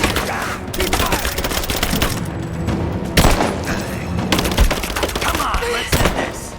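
Rapid bursts of automatic gunfire and booming shots from a Rise of the Tomb Raider combat scene, dense and loud throughout with sharp louder blasts standing out, no talk.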